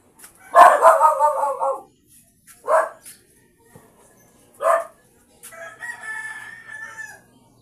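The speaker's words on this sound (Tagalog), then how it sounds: "Ba't nag-aalaga ka ng manok kay Daryl?" A rooster crows loudly and close by, one long cock-a-doodle-doo followed by several shorter, sharper calls separated by quiet gaps.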